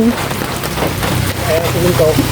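Steady rain falling at a home construction site, a continuous close hiss on surfaces, with a voice speaking faintly over it.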